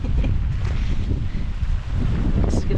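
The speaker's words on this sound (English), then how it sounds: "Oh, it's windy." Strong gusts from Storm Ciaran batter the microphone in a steady, heavy low roar with rumbling buffeting throughout, briefly easing before surging again.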